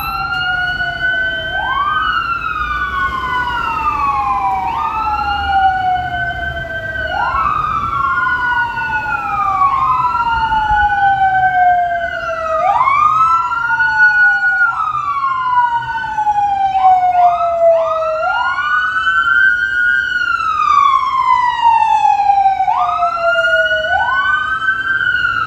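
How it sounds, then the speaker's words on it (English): Loud ambulance and police sirens wail continuously, several overlapping rising-and-falling tones sweeping repeatedly as vehicles pass close by on a Toronto street, with road noise underneath. "here come sirens."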